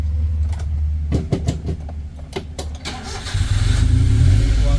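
A Suzuki F5A car engine is cranked with a few sharp clattering turns, then catches and settles into a loud, steady idle rumble that fills the last stretch.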